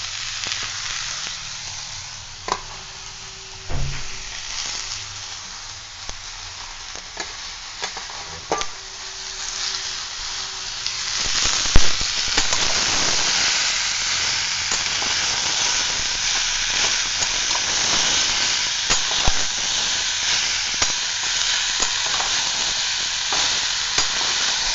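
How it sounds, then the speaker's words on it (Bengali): Radish greens hit a hot pan and fry, a loud, close sizzling hiss that swells partway through, with occasional clinks and scrapes of stirring. "কিছুক্ষণ ভেজে নিয়ে তারপরে মূলো শাকটা দিয়ে দেব"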